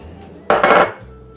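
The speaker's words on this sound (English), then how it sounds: "Mix it in." A brief, close clatter of a utensil against a bowl as cauliflower and eggs are mixed together, a single sharp burst within an otherwise quiet moment.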